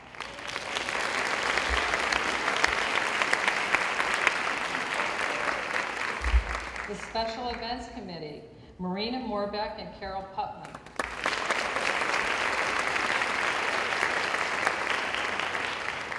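An awards event audience applauds volunteers with broad steady clapping, interrupted midway by a man announcing names before the applause resumes for several seconds.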